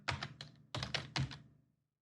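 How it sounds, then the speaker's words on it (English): Typing on a computer keyboard, a few close, crisp keystrokes in two short bursts with a pause between them, then quiet. "So I'm going to type a keyboard here."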